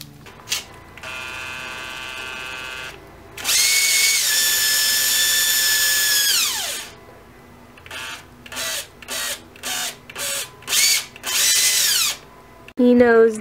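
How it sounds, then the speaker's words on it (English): A cordless power drill handled by a toddler, one long high whine that winds down, then a run of short bursts as the trigger is pressed on and off, close and loud, with a faint voice in the background. "You don't want to do anything but play with that drill"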